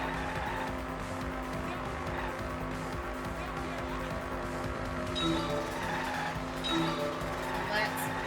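Car driving and skidding in the video game Danganronpa V3, a steady engine hum with brief squealing tire skids, under a person talking.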